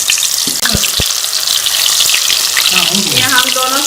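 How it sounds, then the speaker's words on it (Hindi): Chicken kofta fry in hot oil with a loud, steady sizzle and crackle throughout, broken by a couple of soft clinks of a utensil being moved. "जो है हम डाल के इसको फ्राई कर लेंगे"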